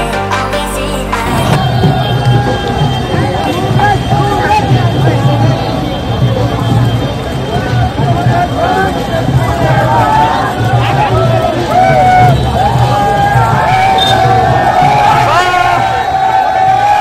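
A large, noisy crowd packs a college campus with police present, a loud continuous babble of many voices with shouts and whoops. People talk nearby throughout, close to the listener and over the crowd.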